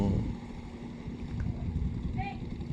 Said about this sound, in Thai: ในแม่น้ำตอนนี้เราไปเห็นเรือหางยาว